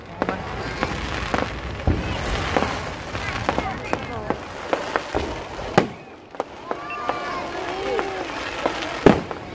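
A Sinulog festival fireworks display in Cebu, with loud sharp bursts and crackling firecracker pops going off in irregular succession, while a crowd murmurs and people talk throughout.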